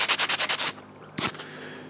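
A 250 grit sanding sponge rubs over a translucent plastic prop part in six quick, even strokes, then a pause and one more firm swipe, close and fairly quiet.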